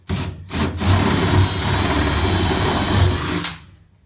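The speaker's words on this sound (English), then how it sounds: "I'm just going to drill slightly on an angle" A drill bores through a galvanised metal bracket while a Gwyn Lewis mud shield kit is fitted to a tub, close and loud, with a steady grinding whine that holds for about three seconds after two short starts.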